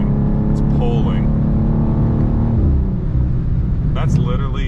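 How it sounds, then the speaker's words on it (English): A 2024 BMW M2 on its stock exhaust accelerates hard in M2 mode, its loud engine tone rising in pitch and briefly dropping between pulls, with someone talking over it. "This sounds so good too. Really good sounding engine. At least on stock exhaust it is."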